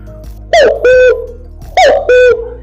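Cuckoo call imitated on a khomus jaw harp: two paired twanging notes, the first sweeping up and the second settling lower, played twice, close and loud, with a steady metallic drone beneath.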